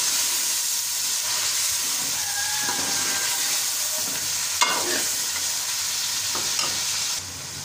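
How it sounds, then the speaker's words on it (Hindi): Tomatoes fry in a pan for a home-style dish of slow-cooked meat, giving a loud, steady sizzle and hiss close by. A spatula scrapes now and then while the mixture is stirred, and there is no talk. "अभी हम टमाटर डाल के अच्छे तरीके से भूनेंगे।"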